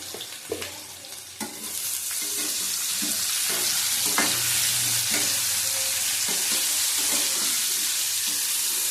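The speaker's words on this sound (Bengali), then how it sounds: "ভেজে নেব ভালো করে।" Loud, constant sizzling of taro frying in a pan, with a spatula scraping and stirring now and then, close up and without talk.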